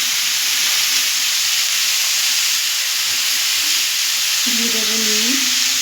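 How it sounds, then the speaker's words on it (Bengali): Ash gourd pieces frying over high heat in a pan give a loud, steady, dense sizzle throughout, with a voice speaking briefly near the end. "গ্যাসটাকে বাড়িয়ে চাল কুমড়াটা ভেজে না নিলে চাল কুমড়াটা গলে যাওয়ার ভয় আছে"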